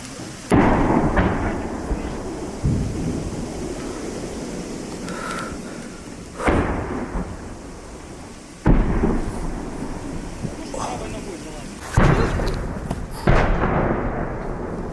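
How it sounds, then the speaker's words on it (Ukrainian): Heavy booming artillery shots thunder out one after another, about six blasts spaced a couple of seconds apart, each rolling and echoing away into the distance, near the border of Kharkiv region, Ukraine. "Постріл!"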